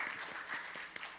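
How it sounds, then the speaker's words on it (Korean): Church congregation applauding a choir singer at a Wednesday worship service, a soft, somewhat distant patter of many hands clapping in a quiet room, faint and brief, with one slightly sharper clap near the end. "우리 수고하시고 빨리 오라고 박수 한번 보내겠습니다."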